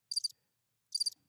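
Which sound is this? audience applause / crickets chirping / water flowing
crickets chirping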